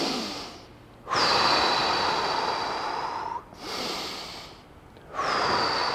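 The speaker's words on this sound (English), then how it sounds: "So again, breathing through constantly." Slow, deep breaths during a glute stretch, each long airy inhale or exhale loud and close, three breath cycles with short pauses between, no talking.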